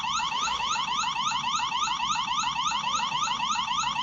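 Smoke alarm sounding steadily during a routine weekly test, a loud, continuous rapid warbling electronic tone repeating without pause, heard alone with no voices.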